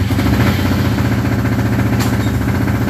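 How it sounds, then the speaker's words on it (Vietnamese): A motorbike engine running steadily after start-up, a constant mid-low rumble with a faint mechanical clatter throughout, close and alone without talk. "bây giờ mình sẽ thực tế cho các bạn khi mà nổ máy xe chạy thì như thế nào nhé"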